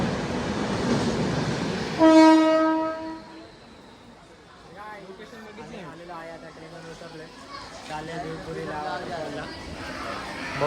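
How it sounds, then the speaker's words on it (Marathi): A local commuter train pulls into Ulhasnagar station platform, its horn blaring loudly and briefly before wheels and carriages rumble on while people talk nearby. "प्लॅटफॉर्म क्रमांक 1 वर आलेली लोकल 12:47 कर्जत"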